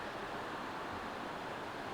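Constant broadband roar of a waterfall at New York Creek, some distance off in the rain, fills the air evenly without pauses or speech.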